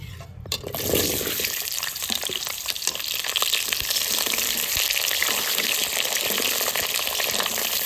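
Meat lightly frying in oil gives a steady, close, continuous hiss with a faint bubbling texture, running unbroken after a brief knock at the start, with no talking.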